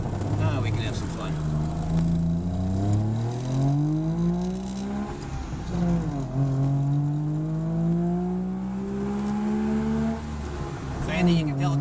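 A SAAB 95 engine accelerating, its droning note rising through gears in repeated climbing sweeps, loud and steady from inside or close by the car.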